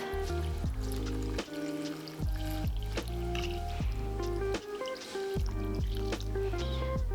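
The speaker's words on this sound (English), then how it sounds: "So now I'm pouring just 6 to 8 cups of water." Water glugs and splashes steadily into a cooking pot in uneven bursts, close by, with pitched gurgling tones rising as it fills.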